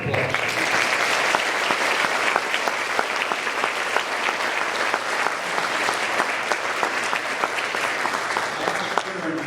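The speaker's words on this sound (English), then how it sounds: "I want to give her a round of applause" A school auditorium audience gives a steady, full round of applause at a public schools dedication ceremony, dense clapping that stays evenly loud for the whole stretch.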